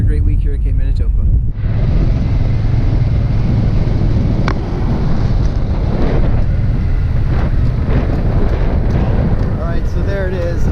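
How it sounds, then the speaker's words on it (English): Strong wind buffets the microphone outdoors at Cape Manitoba, a loud, steady roar with gusty rumble that runs the whole way through and nearly masks any other sound. "I don't know if you can hear me because of the wind"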